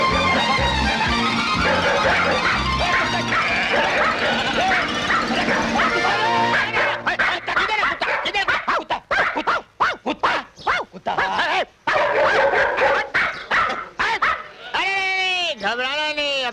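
Dogs bark and yip loudly in a dramatic action scene, layered over a dense soundtrack, with a rapid run of sharp barks and whimper-like cries, then rising whining calls near the end.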